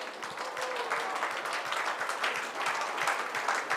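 Audience applause fills a Rotary club installation ceremony hall, a steady, dense wash of clapping from many hands that holds evenly throughout without pause.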